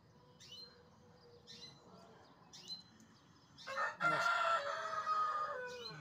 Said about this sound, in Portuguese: Nosso galo capoeira aí, ó, cantando ao amanhecer do dia.